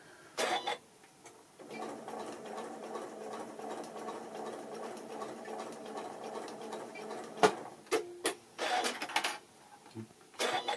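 A Janome Memory Kraft 9400 QCP sewing machine stitches a small purse, its motor whirring in a long steady run after a short start, then stopping and restarting in brief bursts with clicks and handling noises nearby.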